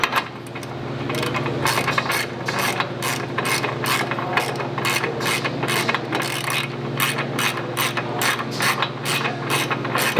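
A wrench ratchets a nut tight on the steering of a Ford Bronco, a rapid, close series of crisp metallic clicks in quick bursts over a steady low hum, continuing for about ten seconds.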